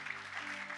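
Church congregation applauding and cheering in praise of the Lord during a French-language sermon, a brief burst of clapping blended with sustained tonal music underneath.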